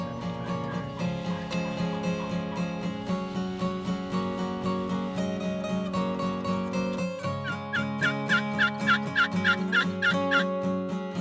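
A wild turkey tom gobbles near its roost in a Michigan hunting setting. Repeated rattling gobble calls ring out over a steady tonal background, growing louder and more rapid toward the end.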